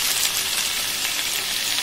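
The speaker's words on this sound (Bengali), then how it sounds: "কষিয়ে নেব মশলা, বেশি পরিমাণেই দিচ্ছে।" Spices for biryani fry in a pan, giving off a dense, close hiss of sizzling with faint stirring under it, steady for the whole short stretch and with no talking.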